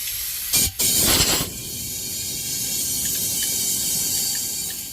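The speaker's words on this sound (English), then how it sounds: "I've took my compressor multiple times, let it build up pressure, and blowed out just about every drop of water I can get out of it" Short bursts of compressed air blasting through a Kamplite inverted camp stove to clear out rinse water, two sharp hissing rushes near the start, then a steady lower hiss and faint ticking for the rest.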